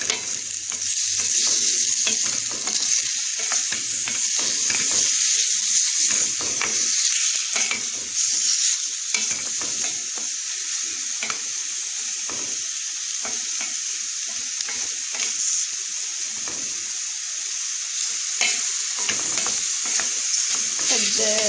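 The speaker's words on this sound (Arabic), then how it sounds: "نضيف معاها الدجاج نشحروهم مزيان." Chicken pieces sautéing in a pan for homemade chicken-flavoured Indomie, a loud, continuous sizzle with a utensil stirring and scraping at irregular intervals.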